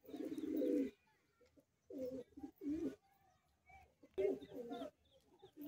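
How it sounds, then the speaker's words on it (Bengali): A young pigeon coos in several deep, throaty bursts with short pauses between them, close and fairly loud, with some quieter background noise. "কম বয়সী পায়রা।"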